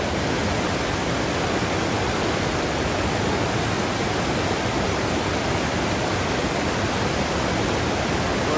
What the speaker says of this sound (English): So here we are on a water crossing.